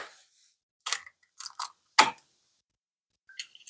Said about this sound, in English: Crack your egg.